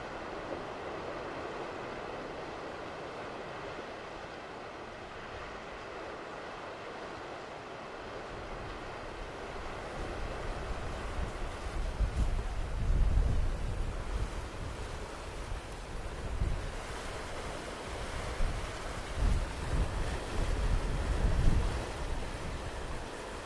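Ocean waves breaking and gusting wind on the coast at Ardnamurchan lighthouse in Scotland, a steady broadband wash that swells louder in surges in the second half, with no voices.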